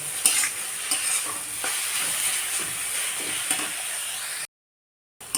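Cooked malancha greens sizzle and hiss steadily in a hot pan as they are stirred and fried, with light scraping knocks, close and loud before cutting to silence.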